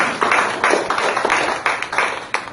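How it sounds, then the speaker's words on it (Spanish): A church congregation claps and applauds together during a Spanish-language service, with rapid, dense, steady clapping that carries on for the whole stretch, close and fairly loud, with no talk over it. "Dale un aplauso al Señor, hermano, en esta mañana."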